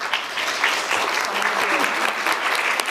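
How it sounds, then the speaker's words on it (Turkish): A live audience claps steadily in a dense, even wash of applause that holds at full strength for the whole stretch, a comedy show crowd responding together. "Bir dakika evlen diyenler bir alkışlayabilir mi?"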